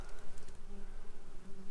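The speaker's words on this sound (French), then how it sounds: "On est sur de la guêpe commune, je crois. Guêpe commune, guêpe européenne." Common European wasps buzz close by at a nest inside a compost bin, a continuous insect drone that swells and fades as they move about, with no voices.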